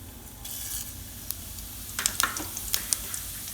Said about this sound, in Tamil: எண்ணெய் நல்லா காஞ்சிருச்சு. கடுகு உளுந்தம் பருப்பு ஆட் பண்ணிக்க போகிறோம்.